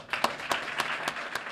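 Audience applause at a Fort Worth ISD Wall of Fame honorees ceremony, a short run of scattered, fairly soft claps with a few sharper hand strikes standing out.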